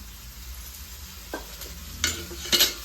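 Dosa frying in oil on a griddle gives a steady low sizzle, with a few sharper bursts of crackle and scraping toward the end.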